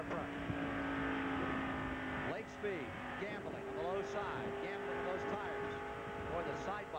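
NASCAR Winston Cup stock cars racing side by side at the 1984 Miller High Life 400, a steady engine roar with rising and falling whines as cars pass, under continuous commentary.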